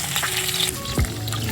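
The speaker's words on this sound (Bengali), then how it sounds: "সবজিগুলো নেড়ে চেড়ে নিয়েছি" Vegetables for sabudana khichdi frying in a pan, a steady close sizzle with a spoon scraping and stirring through them, and one louder clatter near the end.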